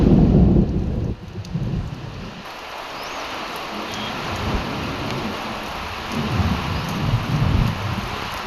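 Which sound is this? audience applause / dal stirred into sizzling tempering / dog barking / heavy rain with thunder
heavy rain with thunder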